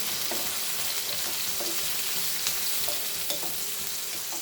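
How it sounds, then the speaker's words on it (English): Chicken momo Manchurian frying in a pan, a continuous crackling sizzle with faint scraping of stirring, steady and fairly close with no voices. "Fry this nicely,"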